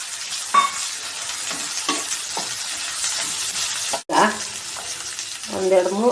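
Field beans (avarekalu) tipped into a hot sizzling pan for avarekalu uppittu, a strong continuous frying hiss with a few clanks and scrapes of stirring, a sharp knock midway.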